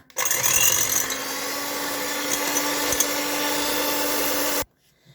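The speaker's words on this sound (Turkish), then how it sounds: "mikserimle bunu beyaz köpük olana kadar şöyle güzelce çırpacağız" An electric hand mixer whisks eggs and sugar for a soufflé, running with a steady, loud whirring buzz close by for several seconds before it cuts off sharply.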